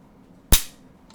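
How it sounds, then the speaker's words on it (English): One sharp, loud snap of a CZ 455 rifle trigger breaking, decaying quickly, close by, with near silence before and after. "Hopefully you'll be able to hear the trigger brake when it goes"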